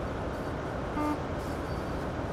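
A train horn in the Train Sim World game, on a Great Western Railway route, gives one short tonal toot of about a quarter second over a steady rumble of cab and engine noise.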